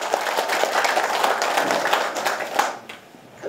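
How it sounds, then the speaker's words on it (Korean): A town-hall audience of Jeongan-myeon residents claps during a Gongju mayor's 2017 New Year visit, a brief burst of crowded applause that holds steady and then fades out near the end. "박수 좀."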